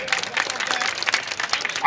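A crowd at a Samajwadi Party political rally claps continuously to welcome a party leader, dense and steady, with a voice faintly mixed into the applause.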